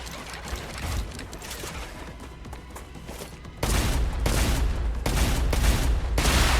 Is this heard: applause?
no